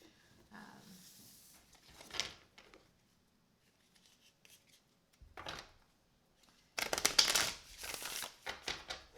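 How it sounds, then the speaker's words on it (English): A deck of tarot cards with a chunky tendency shuffled in uneven bursts, soft scuffs first, then a quiet pause and a louder, dense run of riffling and card slaps near the end, close up with no talking. "That's typically how I shuffle it, just because they do have that chunky tendency."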